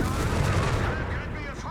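Heavy anti-tank fire hitting a Sherman EC-8 tank in Company of Heroes 3, a dense, loud, continuous roar of battle gunfire and impacts close up.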